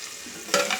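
Vegetables sautéing with turmeric in a pan for sambar, a soft sizzle with a brief stirring scrape midway, close and quiet with no voices.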